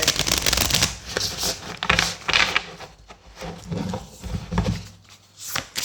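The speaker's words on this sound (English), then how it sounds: "Feel free to skip past the shuffling if you're not into that." Tarot cards being shuffled by hand in close, crisp riffling bursts and soft slides of the deck, repeating in uneven rhythm with brief pauses between passes, no voices.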